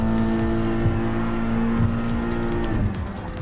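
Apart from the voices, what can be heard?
race cars overtaking in Gran Turismo Sport video game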